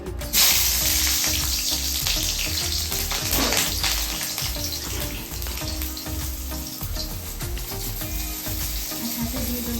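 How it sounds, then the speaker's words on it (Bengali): Green chillies hit hot oil as a tempering for lentil dal, giving a loud, steady, crackling sizzle that runs throughout with little change, close up. "শুকনো লঙ্কা নেই তাই কাঁচা লঙ্কা ফোড়নে দিচ্ছি।"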